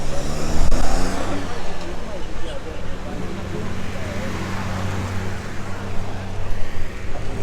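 A race car roars past on a racing circuit at a remembrance race event, its engine note swelling and fading, while a commentator talks over it throughout.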